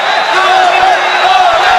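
Crowd at an M-1 Challenge mixed martial arts grappling match roaring loudly and continuously in a large arena, a dense, sustained wash of cheering.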